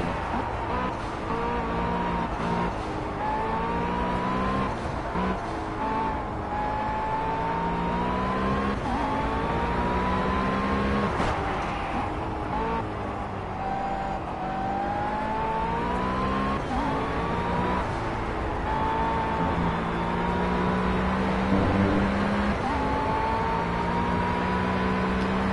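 A race car engine in the Project CARS driving game screams at high revs, rising and falling through gear changes in repeated sweeps, loud and continuous with occasional tire noise and a voice talking faintly underneath.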